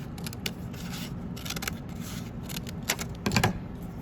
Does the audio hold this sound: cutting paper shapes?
yes